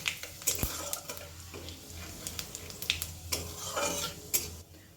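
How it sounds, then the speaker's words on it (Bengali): Whole cumin seeds tempering in hot oil are stirred with a utensil, giving soft sizzling under irregular scraping and a few sharp clinks against the pan, close and moderately loud, with no talking. "ফোড়নটা একটু ভালো করে নেড়ে নেব।"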